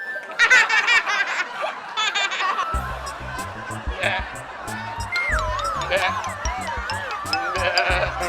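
Goat bleats rise and wobble over chattering voices, with a steady rhythmic backing beat running underneath most of the way.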